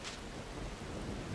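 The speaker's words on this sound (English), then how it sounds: "It's just a little thunder." Low, faint rolling thunder in the horror game No One Lives Under The Lighthouse, a steady distant rumble with rain-like hiss and no voices.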